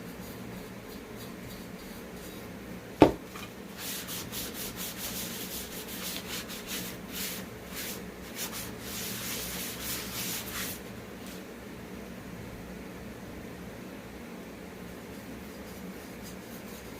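Wax is rubbed steadily onto a flea market item, a continuous close scratchy rubbing with one sharp knock near the start and no talking.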